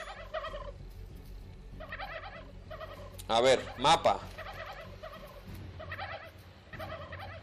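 In How to Survive 2, turkeys repeatedly gobble in short warbling bursts, with louder calls up close midway, while someone talks over the game sound.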